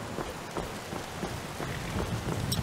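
Rain falls steadily in a game world on the road toward Riverwood, a continuous hiss with soft low rumbles like distant thunder, close and loud with no speech.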